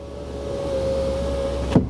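A 2025 Kia Sorento front passenger power window motor whirs steadily and close up as it drives the glass, then stops with a soft thunk near the end.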